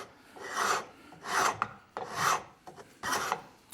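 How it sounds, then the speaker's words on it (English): A float file rasping a wooden tenon cheek in a small workshop, four long strokes in a steady rhythm, each a loud close broadband scrape with short pauses between. "a float is basically a file with just more aggressive teeth"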